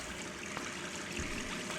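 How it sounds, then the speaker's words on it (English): A bathtub faucet runs in the Gone Home video game, a steady, fairly quiet stream of water pouring without pause. "Then continue into the adjacent part of the bedroom and turn on the tub."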